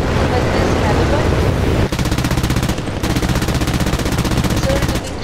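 Rapid machine-gun fire in the War Thunder video game rattles loud and close in sustained bursts, with a brief pause between them.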